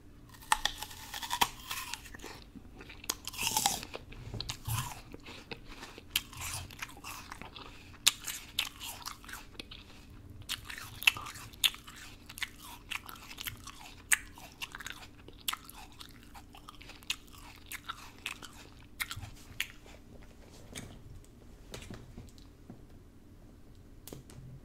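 Crisp, crunchy bites and chewing of Honeycrisp apples repeat steadily up close, with irregular wet crunches and no talking.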